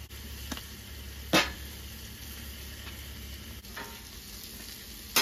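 Northern pike fillets seasoned with paprika fry in a pan, a steady close sizzle with a few sharper crackles and utensil scrapes, no talking.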